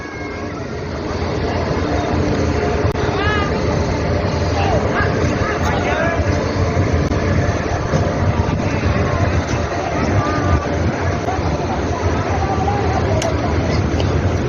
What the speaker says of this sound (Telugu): అదిగో బ్రిడ్జ్ మీదనే ఉంది ట్రైన్, చూసావా?